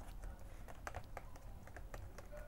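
Keys clack in a quick, irregular run of taps on a Sinclair ZX Spectrum computer keyboard, faint and close against a steady background hiss.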